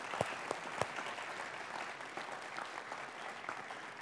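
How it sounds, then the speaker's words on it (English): Fairly quiet, distant-sounding applause from an audience for military cadets at a mentorship talk, a continuous patter with a few sharper claps near the start, and no talking. "I would like the rest of you to give them a round of applause"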